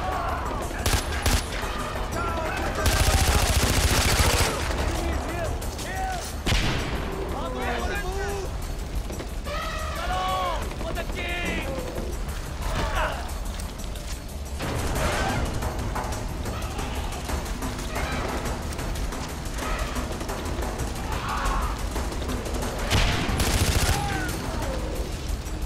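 Gunfire in the shooter game Far Cry 4, dense bursts and sharp shots scattered through busy game sound, with a loud burst early on and further volleys later amid mechanical clatter and effects.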